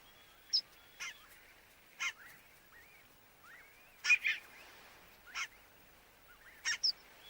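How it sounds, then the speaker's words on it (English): A mother goose and her goslings on Arctic Russian tundra call in a series of short, separate honks and peeps, spaced irregularly and fairly faint against quiet open-air background. "The mother goose must now lead her goslings past the peregrine's nest."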